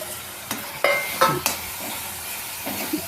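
Cluster bean pieces frying in a pan with an even close sizzle, interrupted by a few spatula scrapes and taps against the metal, with no voices.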